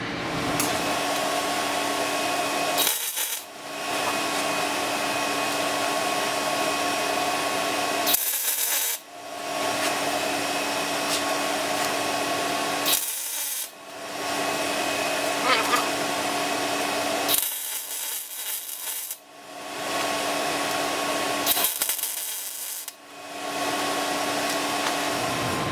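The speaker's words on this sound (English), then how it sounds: "Gonna weld it." MIG welding on the frame of a Mini Stunter 125 build, with a welder whose wire feed is faulty: a steady, loud crackling hiss held for several seconds at a time, broken by five brief pauses between passes.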